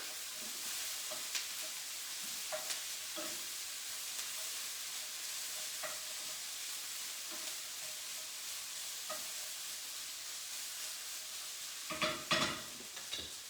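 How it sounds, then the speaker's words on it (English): Vegetables for a cauliflower rice pilaf hiss and sizzle in a pan, with intermittent spatula scrapes and a louder burst of clattering stirring near the end. "Let me give my veggies a stir."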